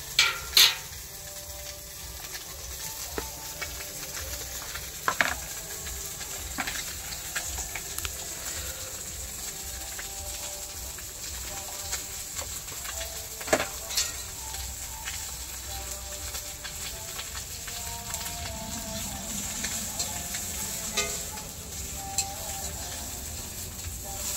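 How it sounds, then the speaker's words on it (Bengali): Fish sizzles steadily in hot oil in a pan during home village cooking in India, a continuous crackling hiss with occasional sharper pops and light utensil clinks, fairly close. "মাছটা ভাজা হয়ে এসছে প্রায়"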